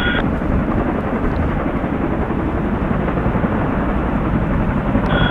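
Military aircraft taking off from runway 24 on Salisbury Plain, a loud, steady broadband roar of engine noise filling the whole stretch without a break, close and sustained, with no voices over it.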